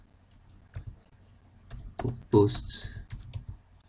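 Quick bursts of typing on a computer keyboard while entering data in an Excel spreadsheet, close and fairly quiet, with someone speaking French over the clicks.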